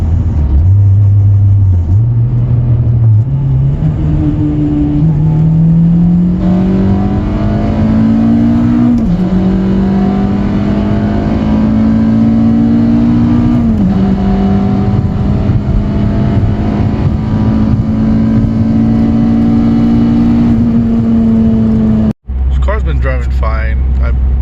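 Acura TSX driving on the road after a transmission repair, its engine droning steadily with pitch rising through each gear and a shift, loud and close throughout, then cutting off briefly near the end.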